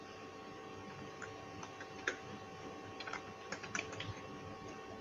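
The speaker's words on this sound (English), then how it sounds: "You press the F2 once on the keyboard." Keys on a computer keyboard are pressed in a light, irregular run of faint clicks and taps over a steady electronic hum, close but quiet with no talking.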